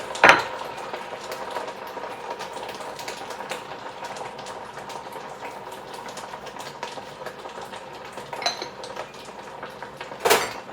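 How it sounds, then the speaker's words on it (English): Chicken meatball and cabbage soup is stirred in a pot, a spoon scraping and clinking against the metal over a low simmer, with louder knocks at the start and end. "I'm going to give that a good stir."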